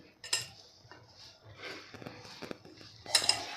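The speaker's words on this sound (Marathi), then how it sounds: "भाजलेलं मीठ आणि त्यानंतर भाजलेली मोहरीची डाळ आणि आपल्याला हे सगळं एकदा मिक्स करून घ्यायचं आहे" Spoon scrapes and clinks against a metal bowl as roasted salt and roasted mustard dal are stirred together for green chilli pickle, soft irregular scraping with a few brighter taps, close and fairly quiet.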